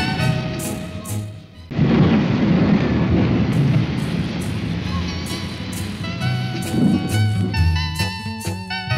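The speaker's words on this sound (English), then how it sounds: "Pitter patter, pitter patter, all the rainy day." Rain and thunder sound effect: a deep rolling rumble bursts in and sustains with heavy rain noise, loud and close, under a sung children's melody.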